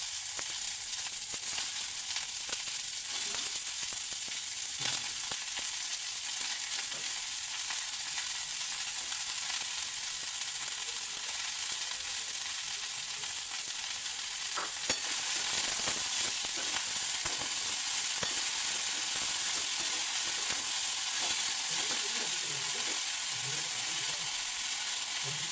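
Chopped cabbage frying in a pan for momo filling gives a steady, close hiss of sizzling that runs unbroken throughout, with faint occasional stirring clicks.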